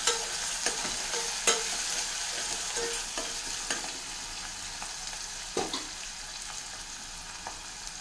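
Finely chopped onion frying in a pan while being stirred, a light sizzle punctuated by repeated spoon knocks and scrapes at an irregular pace, near and moderately quiet, no speech.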